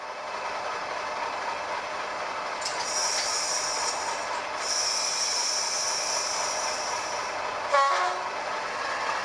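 Bachmann Class 40 diesel model locomotive with DCC sound running on track, a steady diesel engine rumble with hissing, a couple of swelling tones, and a short horn blast near the end.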